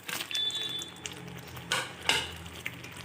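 Fried bhola fish tipped into a pan of thick, reduced spiced gravy, giving soft clatter and scraping with a few sharper clinks of utensil against the pan, over a faint background sizzle.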